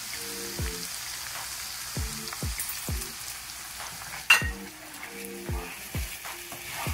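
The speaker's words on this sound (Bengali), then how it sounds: "আরো 2 থেকে 3 মিনিট মতন লো টু মিডিয়াম আছে আমি এটা ভেজে নেব" Tomato puree frying in oil with ginger-garlic paste gives a soft, close sizzle, punctuated by regular scraping strokes of a spatula and a few sharp clinks against the pan.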